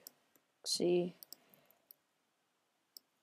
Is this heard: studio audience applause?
no